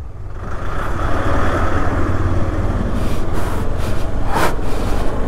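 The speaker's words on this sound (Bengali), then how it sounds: "ওপাশ থেকে আবার লরি আসছে" A lorry rumbles close by on a landslide-hit mountain road near Lamayuru in Ladakh, its loud, steady engine drone filling the scene with a brief higher whine near the end.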